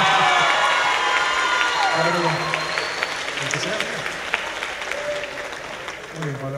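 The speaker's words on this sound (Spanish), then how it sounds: "¡Aplausos para Paola!" An audience in a theatre concert applauds and cheers for a performer, with dense clapping that slowly thins out and a voice speaking over the crowd.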